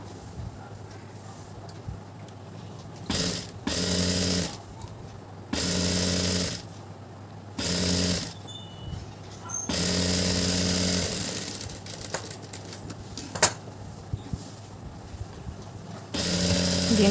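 Sewing machine stitching a pant seam, with several loud whirring bursts of a few seconds each, separated by pauses and quieter handling noise.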